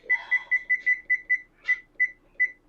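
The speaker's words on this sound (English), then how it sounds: "Set timer." A kitchen timer beeps in a quick run of bright, evenly spaced electronic tones, about ten beeps close by in a quiet room, with a faint voice briefly underneath at the start.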